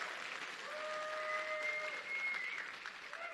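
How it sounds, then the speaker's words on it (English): A conference audience at Contact in the Desert 2018 breaks into a steady round of applause that stays even and moderately loud, with a few faint whistles over it. "Give him a big round of applause."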